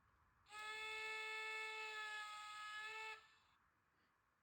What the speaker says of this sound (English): The other functions we've got is the steam whistle